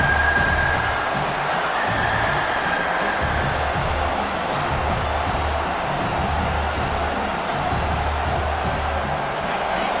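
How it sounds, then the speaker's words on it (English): A loud, constant roar of a large stadium crowd in a college football video game fills the whole stretch, urging the defense during a red zone stand, with a faint whistle-like tone early on. "here comes the noise. This crowd is trying to inspire this defense to make a big red zone stop"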